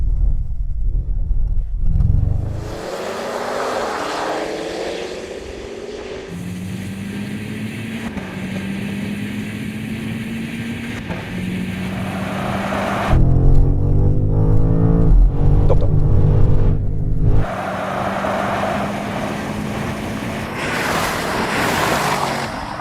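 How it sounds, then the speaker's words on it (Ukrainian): BMW M5 in sport mode accelerating from 30 mph in third gear: a loud engine note climbs steadily in pitch across the run, with a brief gear change midway and heavy wind and road roar throughout. "Накат з 30 миль год на третій передачі у спортивному режимі."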